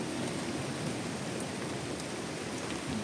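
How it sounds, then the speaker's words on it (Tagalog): Steady rain falling outdoors in summer, a dense continuous hiss of drops on surfaces, close and even throughout with no speech. "Umuulan, umuulan."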